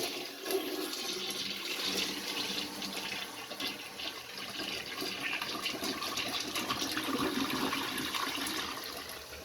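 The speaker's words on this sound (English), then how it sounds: "we'll go ahead and give her one more flush" A just-repaired household toilet flushes with a loud, continuous rush of draining water, then settles into the steady hiss of the tank refilling for several seconds, with no voices.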